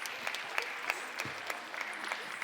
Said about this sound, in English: So can we have a round of applause for Sangiovese, please?